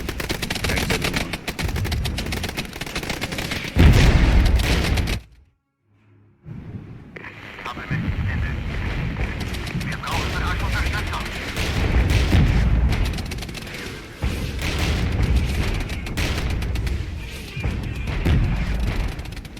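Artillery in the Regiments war strategy game fires in repeated heavy booms amid steady gunfire and battle noise, with a brief drop to near silence partway through, while someone talks over the action.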